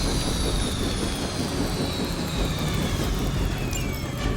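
Helicopter in the video game Marvel's Midnight Suns, heard as a loud, steady roaring engine and rotor wash, with a whining tone that slowly drops in pitch, running continuously without any speech.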